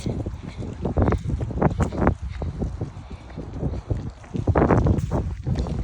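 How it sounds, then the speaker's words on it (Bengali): Gusty wind blowing leaves down hard, buffeting the microphone in loud, uneven rumbling bursts, rising and falling throughout with a brief calmer stretch in the middle. "বাতাস আমাদের সাথে খেলা করতেছে"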